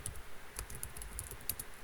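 Quiet, rapid clicking of computer keyboard keys being typed on, a steady patter of light taps close to the microphone over faint background hiss.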